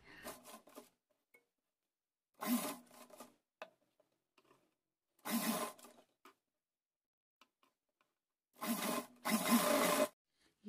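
A sewing machine stitches two layered dress ruffles together in several short separate bursts of rapid needle chatter, with quiet gaps between runs.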